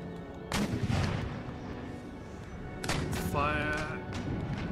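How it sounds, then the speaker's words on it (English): Howitzer artillery firing carcass shot in the Empire Total War strategy game: two booming cannon blasts about two seconds apart, loud and close, with battlefield rumble around them. "Howitzers can use carcass shot now"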